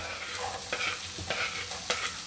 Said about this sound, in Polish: Na rozgrzaną oliwę wrzucamy pokrojoną w kostkę cebulkę.